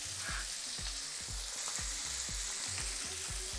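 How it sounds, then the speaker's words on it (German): Onions sizzle and crackle steadily in a hot pan, a close bright hiss with a rhythmic scraping stir repeating roughly twice per second. "Boah, was ist geiler als Zwiebeln, die brutzeln?"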